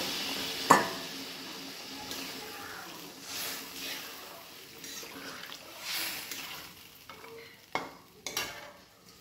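Fried food sizzles in a pan as water is added for a fish and flattened-rice dish, a steady hiss with a sharp clatter near the start and a few stirring knocks toward the end.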